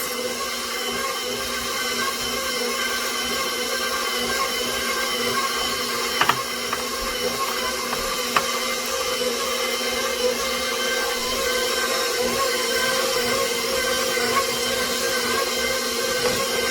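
Stand mixer kneading croissant dough with softened butter, a steady motor whir and hum running throughout with a couple of brief clicks, no talk.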